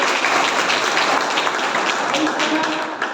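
Steady clapping from an audience at a training camp session, a dense even patter of hands filling the room for a few seconds.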